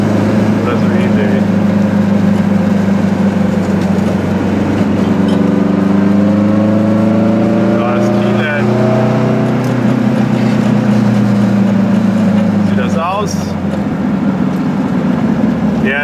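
A car drives along steadily with the engine droning close and loud, its tone rising and falling with gear changes, while people talk over it.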